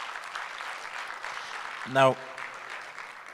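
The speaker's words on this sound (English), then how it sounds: "Let's give the panel a huge round of applause." A conference audience claps continuously for a panel, the applause sounding moderate and somewhat distant, with a brief spoken word cutting through near the middle.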